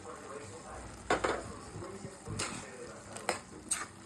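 Mushrooms sautéing for a semi-gravy mushroom curry, soft continuous sizzle with a few sharp stirring scrapes and clinks of a spoon against the pan.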